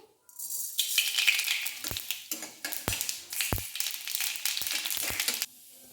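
Mustard seeds tipped into hot mustard oil in a wok, where dried red chillies are already frying, set off a loud, steady sizzle with sharp crackles and pops that runs for several seconds and then cuts off abruptly.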